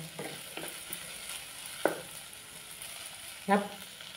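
Onions stirred and fried in a pan for a spicy village-style chicken curry: a soft steady sizzle throughout, with a few light scraping stirs and two sharper clacks of the spoon against the pan, fairly quiet and close.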